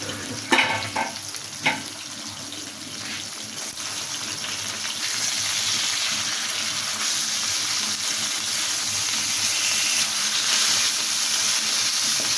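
Rohu fish rubbed with garlic paste, turmeric, chili powder and salt fries in a pan. A few clatters come first, then a steady, loud hiss and sizzle that builds and holds.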